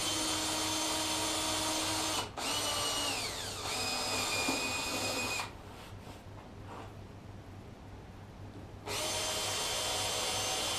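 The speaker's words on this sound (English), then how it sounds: "first step, we drill a 16th hole at the center point." A power drill whines loudly for several seconds while drilling a 1/16-inch pilot hole, pauses briefly, then starts again, with a quieter stretch between runs.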